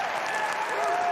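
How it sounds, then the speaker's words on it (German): A large live audience at the Bethesda E3 2019 showcase applauds and cheers steadily as a dense, loud, continuous roar throughout. "Da stehen sie auf und jubeln."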